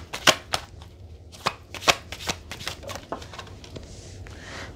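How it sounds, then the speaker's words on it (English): Tarot cards are shuffled and pulled by hand, close up: a string of crisp riffling slaps and flicks at an uneven rhythm, easing into a softer shuffle, with no talking. "Let me pull some cards and find out what it means."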